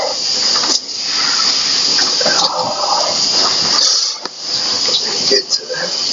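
Cold shower water pouring steadily from overhead, a loud close hiss with brief dips as the body moves under the stream, and someone talking now and then.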